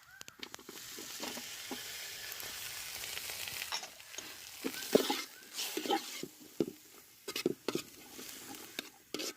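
Tomatoes sizzle and fry in a hot pan for egg bhurji, a steady crackle with scattered stirring scrapes and light clatter building toward the end.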